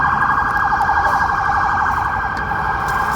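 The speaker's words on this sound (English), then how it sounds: "whether they have their sirens blaze, on and making a whole bunch of noise." A wailing emergency siren sounds continuously and loudly, its warbling tone steady for the whole stretch with traffic noise beneath.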